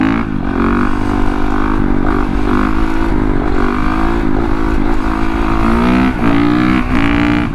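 A Honda CRF450RX set up as a supermoto revs loud and close, its engine note climbing and falling in repeated throttle blips that stay steady for the whole stretch, with no talk.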